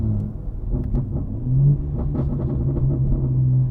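A 700 hp BMW G80 M3 Competition rumbles steadily up close, with a cluster of sharp exhaust pops and crackles breaking over the low engine drone as it pulls through the gears.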